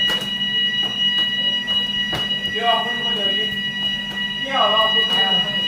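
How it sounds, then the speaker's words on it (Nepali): A steady, high-pitched electronic alarm tone rings continuously, with people talking over it now and then. "अलार्म बजेर तनाव भयो"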